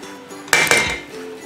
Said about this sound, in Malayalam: നല്ലവണ്ണം ഇളക്കി കൊടുക്കാം. കട്ട കെട്ടാതെ ഇളക്കി കൊടുക്കാം.